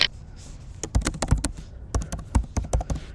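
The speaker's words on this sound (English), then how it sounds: "I am typing." Computer keyboard keys typed in short bursts of sharp clicks, close and fairly loud, with brief pauses between runs of keystrokes.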